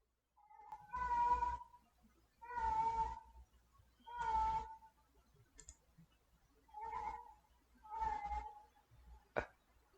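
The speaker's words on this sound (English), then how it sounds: "he keeps meowing at my cat every single day" A cat meows repeatedly, six drawn-out, clear meows with short pauses between them, close and fairly loud, with a brief sharp click near the end.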